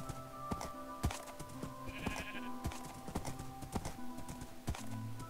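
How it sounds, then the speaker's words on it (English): Sheep bleat in the video game Minecraft, short nasal calls layered over busy game sounds and repeated clip-clop hoof-like footsteps, moderately close. "Sheep. Thought you were a cow there."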